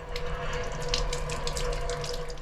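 Water tap running in the toilet of a new German double-decker train, a steady hissing splash into a small basin with rumbling train noise beneath, continuous and close.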